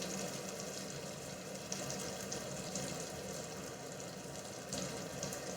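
Ground poppy seed paste going into a hot frying pan, a soft, continuous low sizzle and bubbling, fairly quiet and steady with no talk.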